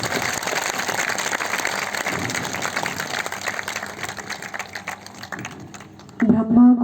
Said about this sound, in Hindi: आप सभी से भी कहूँगी कि एक बार बाबा शिव जी के लिए जोरदार तालियां